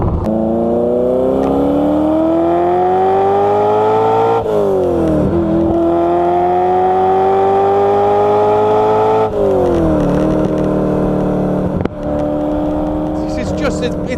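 An old, cheap Ferrari drives along with a steady, loud engine drone, its pitch rising under acceleration and dipping at gear changes several times, while someone talks over it throughout.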